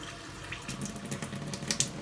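Filtered water running steadily from a home water filtration unit, a soft continuous splashing hiss that grows slightly fuller partway through, close and quiet with no voices.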